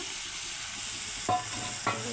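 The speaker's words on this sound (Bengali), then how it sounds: "বেগুন ভাজা" Eggplant sizzles in a pan with turmeric, chili and cumin, a continuous frying hiss broken by two quick stirring scrapes near the end.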